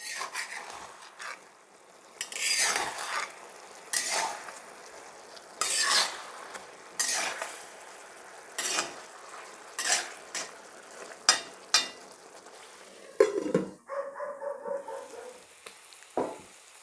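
Masala chicken frying in a pan, stirred with a utensil: a soft, low sizzle under a string of sharp scraping and clinking strokes against the pan, spaced irregularly, with a few pot knocks near the end.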